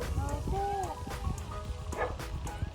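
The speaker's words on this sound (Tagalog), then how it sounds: "Ayan guys, tinatawal tayo ng aso ngayon." A dog barks a few times at a distance during an outdoor mountain hike, with faint yips rising over wind noise and footsteps.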